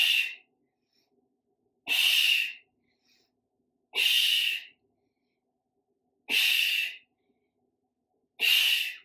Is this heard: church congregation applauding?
no